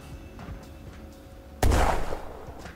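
A grenade explodes in Ghosts of Tabor with a single sudden, heavy boom that rumbles and fades over about a second, after quieter background game noise.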